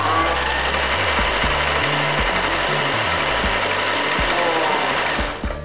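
A sewing machine runs steadily as fabric is stitched, its rapid mechanical whirring and clatter continuous and close before it slows to a stop.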